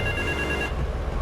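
A payphone rings in Grand Theft Auto 3 with a bright, steady electronic trill that cuts off partway through and leaves low background game noise.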